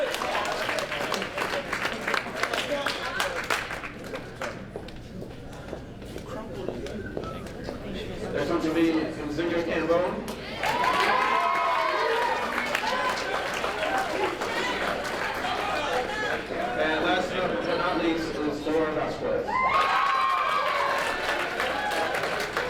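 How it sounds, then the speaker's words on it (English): Banquet-hall applause at a high school football awards dinner, steady clapping from a seated crowd across the whole stretch, swelling louder partway through, with a voice speaking over it at times. "one more round of applause for our 2010 cheerleaders."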